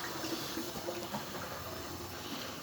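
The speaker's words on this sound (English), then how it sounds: "all I do really is turn the flush handle, and as you can hear, that's now spraying all the way down the column" Water spraying down the column of a still after the flush handle is turned, draining into the tank below; a steady, close broadband hiss and splash that runs without a break, with no voices.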